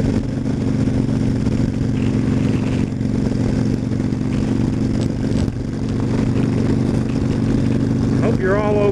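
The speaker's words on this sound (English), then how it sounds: "Bringing some wind noise to you today." Steady, loud wind roar buffets the rider on a Harley-Davidson XL1200 Sportster, with the engine's low drone running underneath throughout.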